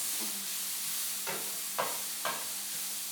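Onions sautéing in a pan toward brown and translucent, a soft steady sizzle with three brief stirring scrapes partway through, close and without talk.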